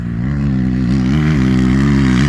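Motorcycle engine revving hard on the throttle, a loud, close, continuous mid-pitched roar with slight rises and dips in pitch across two and a half seconds.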